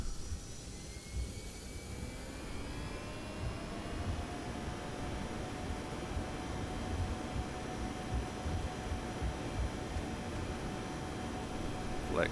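The engines of a Toliss A321neo airliner in X-Plane 12 spool up for takeoff, a steady, broad jet roar with a rising whine that holds loud for the whole stretch.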